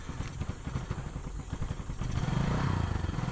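A motorcycle engine idles with a fast, even putter, then is revved and swells into a louder, sustained roar for the last second or so, heard up close outdoors.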